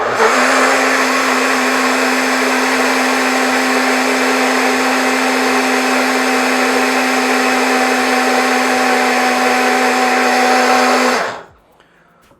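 A Russell Hobbs Mix and Go personal smoothie maker blends a smoothie with a loud, steady, high-pitched motor whine for about eleven seconds, then cuts off abruptly into silence.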